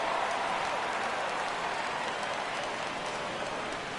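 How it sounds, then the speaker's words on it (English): In a PS4 baseball video game, the stadium crowd rises on a full count with a dense, steady roar of cheering and clapping that keeps an even loudness throughout. "Crowd gets up for the 3-2."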